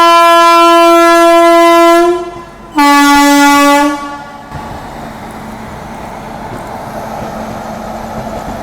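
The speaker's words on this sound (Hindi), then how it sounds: "चलिए फिलहाल अपना अराइवल होता हुआ कानपुर सेंट्रल पे दोस्तों।" A train blasts a long, loud two-part horn while pulling into Kanpur Central station, then the horn stops and a steady rolling rumble continues.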